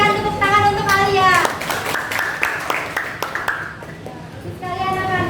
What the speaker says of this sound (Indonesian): Kita berikan tepuk tangan untuk Alia.